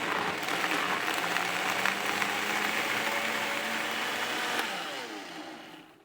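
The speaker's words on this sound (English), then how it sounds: "So now comes the blending. You always want to do this on high" A blender purées chili sauce for birria tacos on its high setting, giving a loud, steady whirring roar that runs the full length and fades slightly at the very end.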